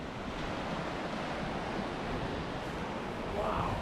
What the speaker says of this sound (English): Look at this, the waves are ripping in this little bit.